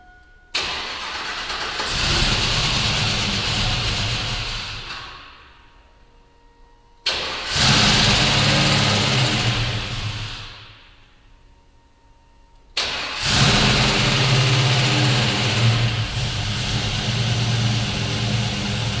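Swapped 5.3 V8 in a lowered Chevy Sierra truck cranks and catches three times, each start roaring up loud and close, idling roughly for a few seconds, then shutting off into quiet before the next attempt.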